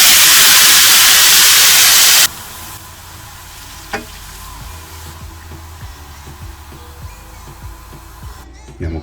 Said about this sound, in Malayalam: അപ്പോൾ നമ്മൾ ഈ ചിക്കൻ വറുത്ത് കോരിയ എണ്ണയിലേക്ക് ഈ സവാള ഇട്ടൊന്ന് മൂപ്പിച്ചെടുക്കാം